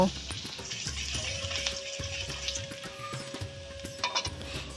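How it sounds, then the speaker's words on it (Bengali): Chopped garlic drops into hot mustard oil in a kadai and fries with a steady, close hiss and crackle that lasts throughout, with a few soft clinks and knocks mixed in. "তেলটাও গরম হয়ে গেছে এবারে যে রসুন কুচিগুলো করে রেখেছিলাম সেইগুলো দিয়ে দেব"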